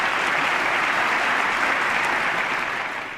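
Sustained applause from the State of the Union audience in the chamber, a thick, even wash of many hands clapping that holds steady and begins to fade at the end.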